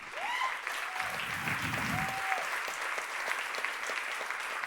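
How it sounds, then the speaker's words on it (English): Steady audience applause at a keynote event, a dense even wash of clapping filling the whole stretch, with a few faint voices rising briefly within it. "a huge applause to everybody who put this together"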